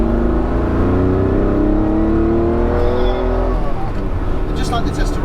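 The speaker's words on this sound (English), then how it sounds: "you've got time to enjoy the revs as they build" A Ferrari 512BB engine pulls hard under acceleration, its loud rising drone building steadily in pitch, then easing back near the end, heard from inside the car.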